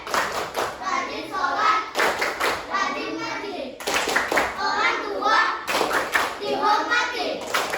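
Classroom of children chanting the Indonesian clapping rhyme tepuk anak soleh, loud voices in unison with bursts of hand claps in short repeated phrases, close and lively.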